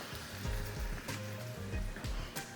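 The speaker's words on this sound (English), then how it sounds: "I have my ground beef in here. I'm gonna just go ahead and let that start browning" Ground beef browns in a chili pot with a steady, moderate sizzle and crackle, close by, with low bubbling and faint clatter underneath.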